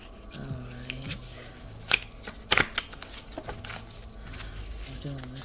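Tarot cards being shuffled by hand in a quiet room: a run of soft riffles and sharp flicks with scattered snaps, with some faint voiced murmurs and a low hum in the background.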